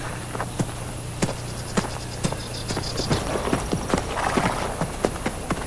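Horses walking on a hard surface, their hooves clip-clopping in a loose, steady rhythm at moderate distance, with faint background ambience and no speech.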